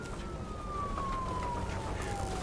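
A police siren in the video game Nobody Wants To Die holds a steady, slowly falling tone above a dense bed of background noise.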